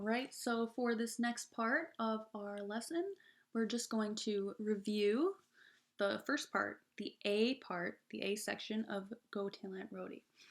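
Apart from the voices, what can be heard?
No distinct noise like a dog, phone or traffic.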